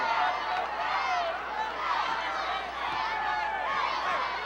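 Crowd of fans cheering and shouting continuously in a high school boys basketball game at an arena, a steady dense roar with voices throughout.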